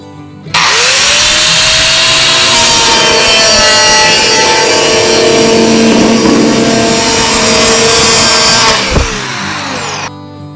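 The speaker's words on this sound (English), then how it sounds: "the Dremel Sawmax does a really nice job" A Dremel Saw-Max cuts through a clamped plastic drain pipe with a loud, steady high-pitched whine that runs for about eight seconds and then winds down.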